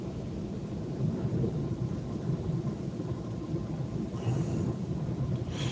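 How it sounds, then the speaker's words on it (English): Strong wind gusts roar steadily across open Texas Panhandle country near Vega, a continuous low rumbling buffet with surging gusts throughout and no talk. "very windy right now."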